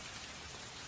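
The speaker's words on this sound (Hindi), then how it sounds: "बारिश काफी तेज है।" Dense, steady hiss of heavy rain, constant and enveloping with no pauses.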